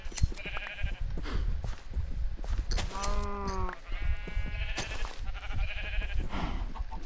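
Minecraft sheep bleat as they are sheared for wool, with one clear wavering bleat standing out midway over a steady bed of game noise.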